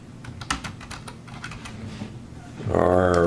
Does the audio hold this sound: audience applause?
no